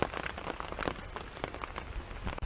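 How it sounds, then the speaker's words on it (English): Heavy rain pours down on a hammock camp in the woods at night, a dense, loud, continuous patter of drops striking fabric and leaves. "About 3:30 in the morning it started pouring down rain."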